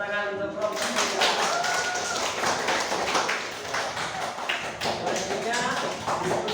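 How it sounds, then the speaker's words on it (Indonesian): Classroom applause for a student group after a presentation on electrical equipment: a burst of many hands clapping at close range, steady and fairly loud throughout, with voices speaking over it. "tepuk tangan untuk kelompok 3"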